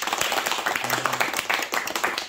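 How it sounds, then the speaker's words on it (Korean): People at an apple-farming education session give a short round of thanks, brisk uneven clapping from a small group, with a voice briefly heard under it. "감사의 박수를 한번 보내주십시오"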